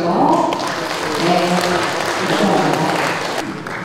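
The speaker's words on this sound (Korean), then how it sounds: "박수 한 번 보내주십시오." Audience applause rises after a stage performance at a Buddhist ceremony, a steady round of clapping lasting a few seconds with some voices mixed in.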